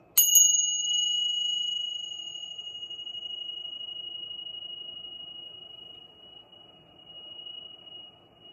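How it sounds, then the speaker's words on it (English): A single bright bell strike rings out loudly, its clear metallic tone sustaining and slowly fading over several seconds, with nothing else heard. "there's going to be a loud bell sound here"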